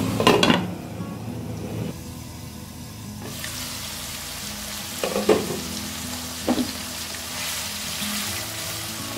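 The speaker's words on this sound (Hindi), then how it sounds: "अब मैं प्याज को ट्रांसपेरेंट होने तक पकाऊंगी।" Onions frying in a pan for apple gourd (tinda) sabzi: a continuous close sizzle, with sharp scraping stirs at the start and two more stirs later on.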